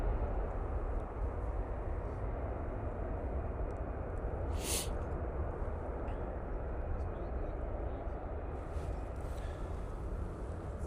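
A TUI Boeing 737 MAX 8 airliner departs Manchester Airport, its jet roar a steady broadband rumble that holds loud and even throughout, with a brief hiss in the middle and no distinct talk.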